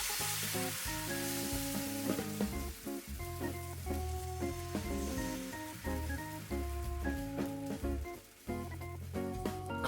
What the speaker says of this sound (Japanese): フライパンを温めて油を広げて生地を薄く広げます。